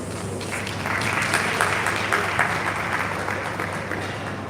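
Steady applause from a large conference audience fills the room, continuous dense clapping at even loudness with a faint voice underneath.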